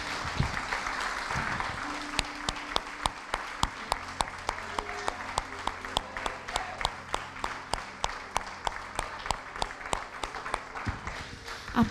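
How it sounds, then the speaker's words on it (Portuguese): Sunday church congregation applauding in a worship service, sustained clapping with sharp distinct claps standing out over a low organ-like drone and some voices. "Você pode aplaudir o Senhor?"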